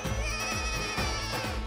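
A phone rings unanswered with a repeating warbling ringtone, loud and close, pulsing in quick regular bursts with no one picking up.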